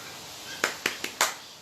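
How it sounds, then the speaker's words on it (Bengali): Four sharp hand claps from a magic show audience, spaced about a quarter second apart and fairly close, rising from a quiet room background. "জোরে হাততালি দাও, জোরে হাততালি দাও।"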